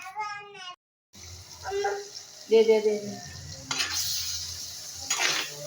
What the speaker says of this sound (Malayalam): മൂടി വെച്ച് ഫ്രൈ ചെയ്തെടുക്കുവാണ്